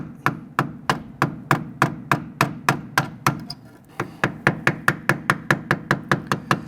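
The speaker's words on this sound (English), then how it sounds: "I'm going to use a flathead screwdriver, and I'm just going to gently tap it" A flathead screwdriver is tapped repeatedly against a stuck rear ABS sensor on a 2006-2012 Toyota RAV4, giving sharp, close metallic knocks in a steady rhythm, with one brief pause midway before the taps resume slightly faster.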